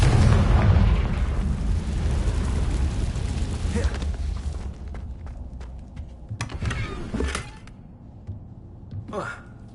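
The Confringo blasting spell in Hogwarts Legacy lands in a loud, rumbling explosion that rolls out and fades, followed by a few lighter magical bursts and thuds, and a player says a spell name at one point.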